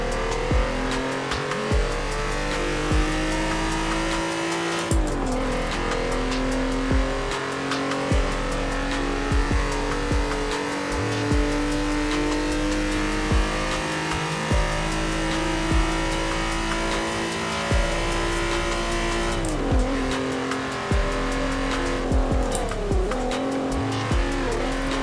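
A VW MK4 Golf R32 in Forza Horizon 4 revs loudly, its engine climbing and falling through repeated gear changes with brief tire squeals, continuous and close.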